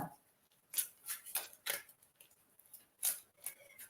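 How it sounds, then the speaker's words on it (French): Short papery riffle bursts from a deck of Zener cards being shuffled, several quick crisp snaps in an uneven rhythm, close and fairly faint, with no talking. "il suffit simplement de bien mélanger les cartes"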